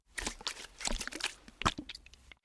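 A brush swishes and taps wetly against a container, with scattered soft clicks and a sharper knock near the end, close and fairly quiet.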